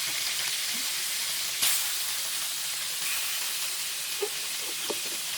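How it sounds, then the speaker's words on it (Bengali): Fish frying in oil in a pan while cooking a cauliflower fish curry gives a steady, close sizzling hiss that runs throughout, with a brief louder burst of spatter near the start and a few small pops later. "তো দেওয়ার পর এর উপরে মাছ ছেড়ে দিবেন। তো দেওয়ার পরে এখান থেকে আপনি সেগুলো সুন্দর করে ভাজবেন।"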